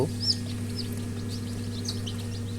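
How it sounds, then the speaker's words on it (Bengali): Newly hatched chicks peep in a chorus of faint, high chirps inside an incubator, over a steady low mechanical hum. "অনেকগুলো বাচ্চাই ফুটে বের হইছে"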